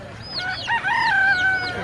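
A village rooster at a market crows once, loud and close, its drawn-out call rising and wavering over faint crowd noise, with no clear talk over it.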